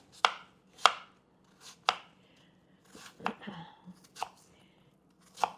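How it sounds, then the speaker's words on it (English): An apple is finely chopped with a knife on a cutting board, a string of sharp, close chops at an uneven rhythm with short pauses between them, heard alone. "So I'm going to go ahead and finely chop my apple"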